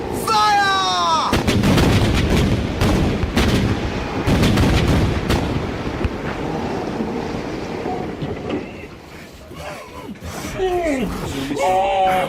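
Ship's cannons boom in a rolling broadside as a sound effect in a naval radio drama, heavy repeated blasts running across several seconds, with shouting voices heard before and after the firing.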